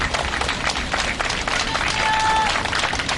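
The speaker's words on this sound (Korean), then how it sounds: "많은 분들이 좀 힘찬 박수로 좀 응원해 주시고 함께 해 주시기를 부탁드립니다." An outdoor crowd at a civic rally applauds a hunger striker, a fairly faint wash of clapping with voices mixed in and a thin tonal whine partway through.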